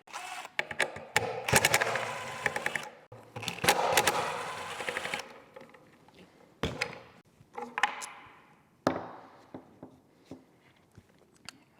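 Two 10 millimeter bolts being worked loose from a Duramax diesel engine front cover area, with bursts of ratcheting and metallic clicks, a pause, then scattered close taps and handling clatter.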